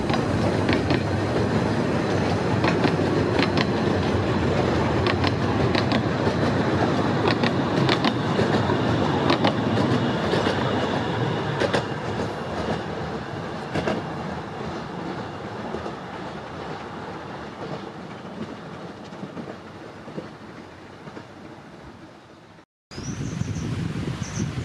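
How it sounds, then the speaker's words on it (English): The La'al Ratty miniature railway train runs steadily along the line to Dalegarth with a continuous rumble and rhythmic clicks of the wheels, fading slightly before a brief cut near the end. "Now I take the next train to Dalegarth."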